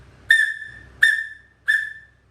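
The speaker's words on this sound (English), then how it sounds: "If you blow into a whistle," A whistle is blown three times in a row, each a loud, sharp, steady blast lasting about half a second, spaced evenly with short silences between.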